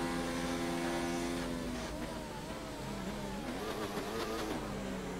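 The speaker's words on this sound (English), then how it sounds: "massive downshifting in there from Bob to try and find the traction to get through there" A racing car in a video game at Monza, engine note stepping down through rapid downshifts as it fights for traction, a loud, continuous revving roar with changing pitch.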